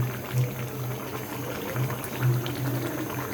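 Tengra fish curry with eggplant, potato and tomato bubbles steadily in a pot, a dense continuous simmer with soft popping and a low hum underneath, close and fairly loud, with no talking.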